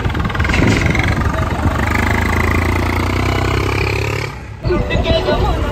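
A Sonalika 35 tractor engine with a fault runs at a steady, loud rumbling idle up close, dipping briefly near the end before picking back up.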